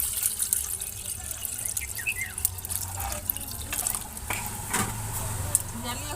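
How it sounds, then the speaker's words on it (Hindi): Water is poured into a hot cooking pot on a stove, giving a splashing, running-liquid sound with small drips and sizzle that continues throughout. "मैं पानी को डाल देती हूँ।"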